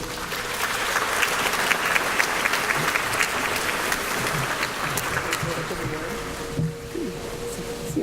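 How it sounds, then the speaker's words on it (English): A luncheon crowd at a chess awards event applauds steadily for several seconds, a dense patter of clapping that thins slightly toward the end, with some voices mixed in. "Join me in giving a round of applause for what we hope will be our next world champion."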